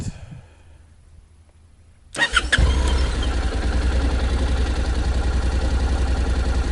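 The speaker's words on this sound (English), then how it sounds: "The engine music is already more serious than the NC700X, for sure." After a quiet start, a Honda Rebel 500 motorcycle engine cranks and fires up, then settles into a steady, throbbing idle.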